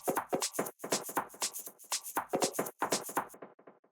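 A full percussion section with shaker rattles and hand hits runs in a busy, rhythmic groove of crisp shakes and taps, close and steady before stopping, with no talk.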